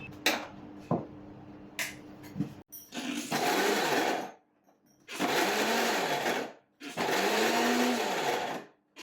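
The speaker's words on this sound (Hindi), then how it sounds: "मैं मेरी मिक्सर को ना थोड़ा सा डर डर के ही चलाती हूँ" Kitchen mixer grinder crushing amla for juice, run in three loud roaring pulses of about two seconds each with short silent gaps, preceded by a few light clicks and knocks as the jar is set up.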